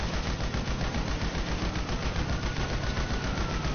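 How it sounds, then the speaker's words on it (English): Sustained automatic machine-gun fire in the GTA roleplay game: a dense, loud burst of rapid rounds that runs without a break for several seconds, with no voices over it. "This machine gun is more powerful than I thought."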